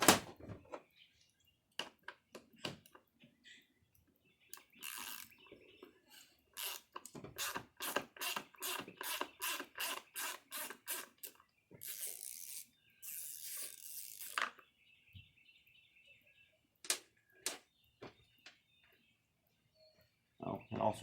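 Ratchet clicking in rapid bursts while screws are backed out of the fuel tank on a Holzfforma G660 chainsaw, with intermittent scraping and handling noises between runs and someone talking at times.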